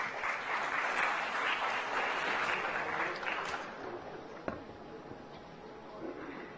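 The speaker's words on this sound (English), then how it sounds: "Let's welcome him with a round of applause." Audience applause at a literary festival gathering, sustained dense clapping from a large crowd that fades out toward the end, with a sharp tap near the close.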